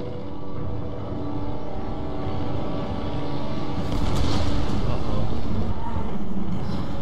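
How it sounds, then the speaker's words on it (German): An airplane approaches in the video game Tomb Raider as a loud, steady engine drone and roar that grows fuller and louder about halfway through. "Hey, das Flugzeug ist da."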